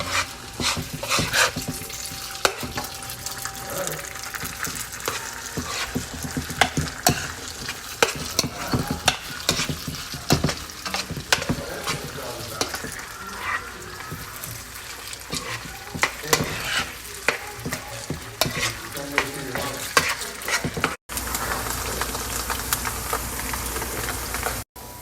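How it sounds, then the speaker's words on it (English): Combination fried rice is stir-fried with soy sauce in a hot pan, a constant crackling sizzle with frequent scraping and tossing of the spatula throughout, close and lively. "As you stir with the soy sauce, cooking it"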